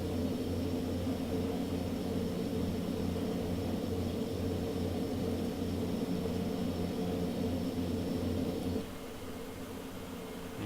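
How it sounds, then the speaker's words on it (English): Steady, loud drone of a light aircraft engine during climb, a dense low hum with a high whine that drops away near the end, continuous and close with no talking. "She looks like a determined aircraft to get to where she wants to go to."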